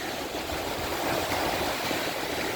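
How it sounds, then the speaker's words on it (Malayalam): A small boat speeding across open water near a large container port, its steady engine and hull rush blending into a continuous broadband wash of spray and water noise, with no talk. "ഒരു ചെറിയ ബോട്ട് പാഞ്ഞു വരുന്നതും"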